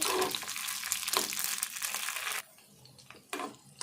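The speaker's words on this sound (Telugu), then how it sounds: "ఫస్ట్ ఈ మిరపకాయలు వేపుకుందాము దూరగా వేయించుకోవాలి" Red chillies in a little oil sizzle and crackle in a pan while being stirred, with a busy steady crackling that suddenly drops away to quieter scraping and brief bursts of frying near the end.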